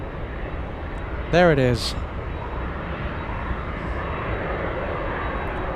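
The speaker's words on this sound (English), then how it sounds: "I'm hearing something power up out there. What is it? Oh, it's the 767." Boeing 767 jet engines powering up at Anchorage airport: a steady, distant broadband roar that holds throughout, with a brief spoken remark over it early on.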